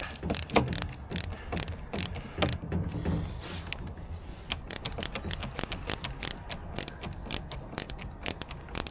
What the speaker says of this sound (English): I need a new bit in this screwdriver. It's a little bit slippy.